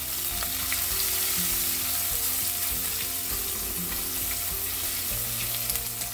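Asafoetida crackles in sesame oil with a constant, close sizzle, while a spoon stirs it softly in the pan, and there is no talk.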